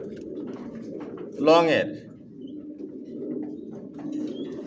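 A Grizzle racing pigeon, a male sitting on eggs in a loft, lets out one loud, close rolling coo, surrounded by a man's speech and soft background noise.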